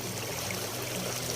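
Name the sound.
river water flowing at the riverbank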